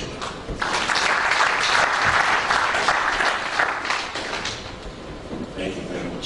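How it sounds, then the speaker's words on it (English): An audience gives a standing ovation to a guest lecturer, a loud, continuous wash of clapping that swells, then gradually thins as scattered voices murmur beneath it. "give a standing applause to the"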